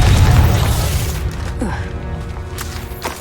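A Confringo fire spell explodes in Hogwarts Legacy, a loud, deep booming burst right at the start that rolls off into a rumbling tail while softer game effects continue behind it.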